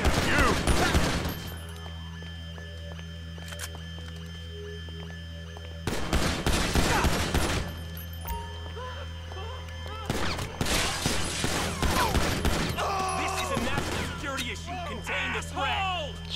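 Bursts of gunfire in a GTA 5 shootout, several loud rapid volleys separated by quieter stretches, with someone talking between and over them and game sounds around.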